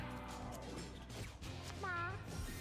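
A cat in the video game Mewgenics gives a single short meow with a rising then falling tone, heard among a person's talking.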